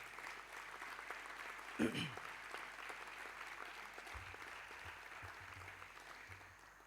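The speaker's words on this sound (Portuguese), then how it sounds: "Mais uma vez, o vosso aplauso para o Sérgio Martins, por favor." An audience applauds a tenor at a book presentation in Vila do Conde, with steady clapping throughout, a brief louder bump near the start, and a voice speaking over the tail end.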